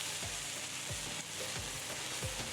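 Onions sizzle and fry in oil in the cooking game Venba, a steady crackling hiss with repeated stirring swooshes at a regular pace, no voices.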